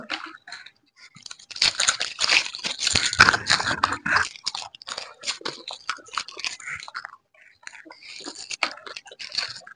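Crunchy chewing and biting of chocolate during an eating challenge, irregular close-up bursts of crunching and mouth noises with brief pauses.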